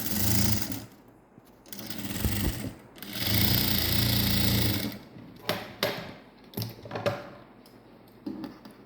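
A sewing machine runs in bursts as it stitches a net-neck blouse, with rapid mechanical chattering in two longer runs and then short stop-start stitches and clicks.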